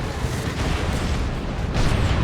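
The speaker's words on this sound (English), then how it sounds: "Big shot from the blast gun." Heavy cannon blast from the Dawn of War 2 strategy game, a plasma overcharge shot amid continuous loud battle rumble of explosions and gunfire, with a brighter burst near the end.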